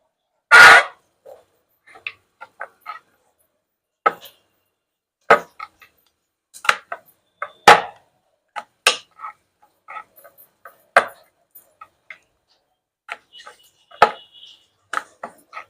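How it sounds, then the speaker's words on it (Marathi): Chakolya dough being rolled out with a rolling pin, heard as sparse light knocks and taps of the pin against the board, scattered irregularly and close by in an otherwise quiet kitchen. "आता आपण चकोल्या म्हणजेच चिखल्या लाटून घेऊ"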